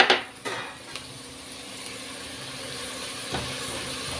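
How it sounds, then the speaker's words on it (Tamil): Manathakkali berries dropped into hot cooking oil, a couple of soft clatters followed by a steady, quiet sizzle and hiss of frying. "நம்ம இப்போ மணத்தக்காளி போட்டு இதில் வறுத்து எடுத்துக்கலாம்."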